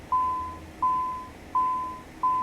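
Cockpit avionics in a Cessna Citation CJ4 business jet in Microsoft Flight Simulator, parked after arrival at Boston, sound four evenly spaced clean electronic beeps, each holding a steady tone before cutting off, over a quiet background.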